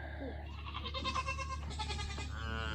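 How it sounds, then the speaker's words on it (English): Goats waiting to go out to their outdoor pen bleat several times in overlapping, wavering calls, close and moderately loud over a steady low hum. "Goats are ready to go out to their outside pen."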